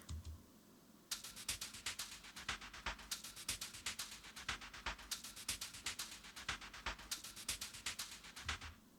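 A simple percussion loop from the Damage 2 sample library plays a fast, steady pattern of sharp, crisp ticking hits over a faint low rumble, fairly quiet and with no voices.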